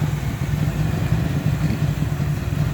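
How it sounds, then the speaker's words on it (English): A 1979 Oldsmobile Cutlass Supreme with a 4.3 engine idles on ethanol fuel, a steady low rumble with a slightly uneven, lumpy pulse, close and loud with no talk. "the ethanol fuel has it idling just a little bit unsmooth"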